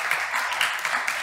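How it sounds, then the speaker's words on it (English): Brief burst of clapping from a group, steady and dense throughout, with no voices on top. "can we please give Subra a round of applause for his"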